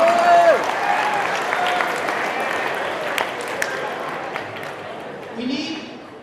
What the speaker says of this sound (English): Hold on the applause, please.